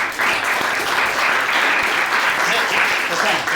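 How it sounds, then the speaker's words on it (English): A club audience in Shanghai claps steadily and fairly loudly throughout, a dense, continuous round of applause with speech faintly mixed in. "let's give him a round of applause for the beautiful piano music"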